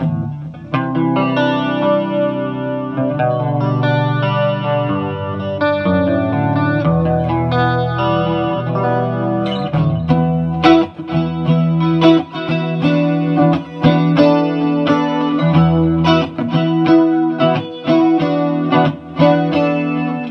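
An electric guitar played through a vintage Peavey Deuce amp with a shimmering chorus effect, steady chords and lead notes, loud and continuous with no talking.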